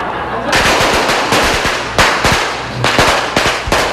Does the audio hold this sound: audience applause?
no